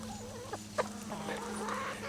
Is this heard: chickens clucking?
yes